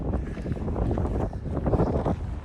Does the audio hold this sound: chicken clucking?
no